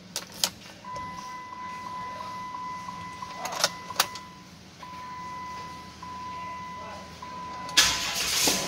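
Keys jangle and a steady warning chime sound inside a 2011 Jeep Wrangler Rubicon with a 3.8 V6, then the engine cranks over near the end as the key turns; sharp clicks punctuate a quiet cabin.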